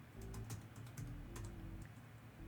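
Typing on a very thin metal keyboard with a clicky feel, a quick irregular run of sharp, fairly close keystrokes over a low steady background hum.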